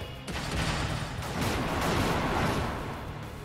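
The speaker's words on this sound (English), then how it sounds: "Let's try out this chafe grenade." Chafe grenade thrown in Trails of Cold Steel III, a dense burst of crackling explosive noise that swells for a few seconds and fades, with no talk over it.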